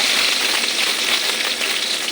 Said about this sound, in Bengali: তেলটা গরম হয়ে গেছে এখন পেঁয়াজ কলি দিয়ে দেব